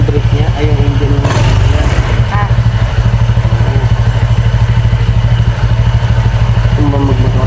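A motorcycle engine runs loud and close throughout, a steady rumbling idle with a brief rev near the start, while people talk over it.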